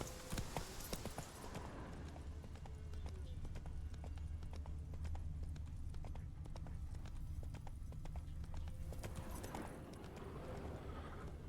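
Roach the horse's hooves clopping in The Witcher 3 video game, a steady run of close hoofbeats over game ambience, with a brief murmur of voice near the start.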